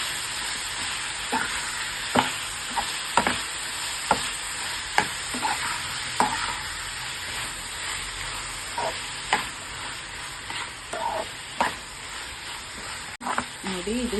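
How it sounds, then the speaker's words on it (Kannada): Onions fry to golden in a pan of tomato chutney while a spoon stirs them, giving a steady sizzle broken by regular sharp scrapes and knocks against the pan. "ಈರುಳ್ಳಿನೂ ಸ್ವಲ್ಪ ಗೋಲ್ಡನ್ ಫ್ರೈ ಆಗಬೇಕು."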